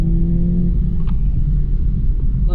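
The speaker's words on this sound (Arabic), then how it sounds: "لاكسيليراسيون مع هاد الصويت ديال الموتور" A BMW Z4 M Pack 2025 sports car with its roof open accelerates, a steady loud engine rumble and drone filling the whole stretch, near and continuous, with no talk.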